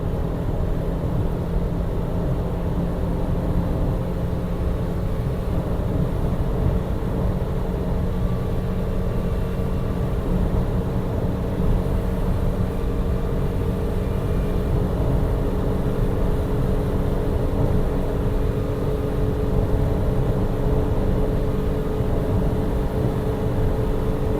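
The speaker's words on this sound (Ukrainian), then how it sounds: "Зараз четверта передача десь плюс-мінус 140. І давайте газ в пол." A Daewoo Lanos, a 1.3 Sens converted to a 1.6, pulls hard at full throttle in fourth gear around 140 km/h. The engine drones in a loud, steady low roar alongside road and wind noise, with no talking.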